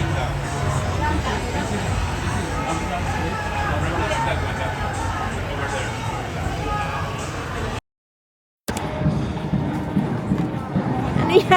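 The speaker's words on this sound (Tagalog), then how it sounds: "May nagpo-protesta sa labas." An outdoor crowd of protesters on a Barcelona street makes a broad, steady murmur of voices, with a brief drop-out before the babble resumes and nearby people chat over it.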